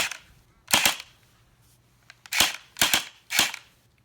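A toy Glock 18 pistol test-fired, giving sharp cap-gun-like cracks: a quick double shot followed after a pause by three more evenly spaced pops, close and loud in a quiet room.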